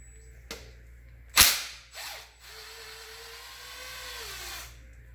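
A ratchet works loose the oil pan bolts on a Nissan 370z: a sharp click, a louder mechanical snap, then a quieter stretch of ratcheting and a faint whirring tone, heard close with no talking.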